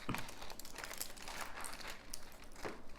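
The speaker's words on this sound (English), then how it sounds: "Then I get to peel this foil off." Aluminum foil being peeled off a roast crackles and crinkles continuously at close range for about three seconds, a faint but busy rustling texture.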